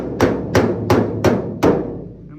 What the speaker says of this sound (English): Now I'm gonna take my hammer.